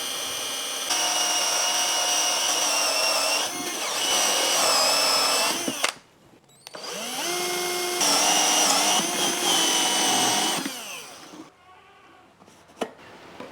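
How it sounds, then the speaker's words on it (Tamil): A power drill bores holes into the top of a plastic container lid in two long, loud whining bursts separated by a short pause, with no talking. "அந்த மூடிக்கு மேல் பக்கத்தில் 2 இடத்துல அப்படியே ஓட்ட போட்டு எடுத்துக்கலாம்"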